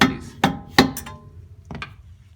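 Hammer tapping bolts out of a 1994-2004 Ford Mustang suspension knuckle: three sharp metallic hits in quick succession, then two lighter taps, close and loud with brief ringing.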